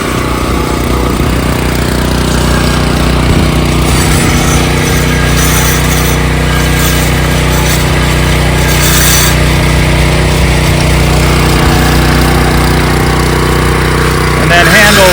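A low voltage wire trencher with a locked differential cuts a trench for an in-ground dog fence across a big yard. Its engine roars loud and steady at close range throughout, with no break.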